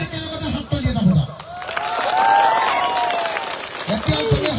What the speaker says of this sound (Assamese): যদি হয় সকলোৱে একেলগতে হাত তালি এটা বজাওক